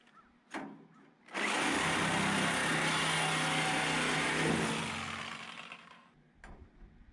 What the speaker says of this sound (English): That's absolutely the way to do it with a Sawzall.